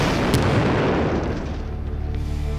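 A huge MythBusters test explosion roars as a dense, sustained boom and rumble filling the whole stretch, very loud and close, slowly easing off toward the end with no voices.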